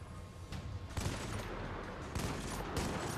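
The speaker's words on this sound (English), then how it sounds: "I'm shooting him in his head, man." Rapid bursts of gunfire from the video game Army of Two: The Devil's Cartel, loud and dense, with sharp volleys near the one-second and two-second marks over constant battle noise.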